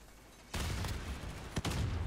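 Gunfire in a competitive shooter video game crackles out in a sudden burst, followed by a couple more sharp shots, fairly quiet under the game's ambient background noise, with no talk.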